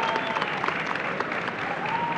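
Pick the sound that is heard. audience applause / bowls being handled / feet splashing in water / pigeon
audience applause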